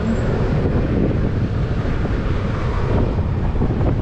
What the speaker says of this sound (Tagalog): Malamig! Super hangin. Mahangin-hangin.